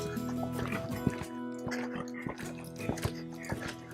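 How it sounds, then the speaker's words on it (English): A horse moves at a nice, easy canter under a rider, giving soft, rhythmic hoofbeats with occasional snorting breaths amid faint background noise. "this is his nice, easy canter."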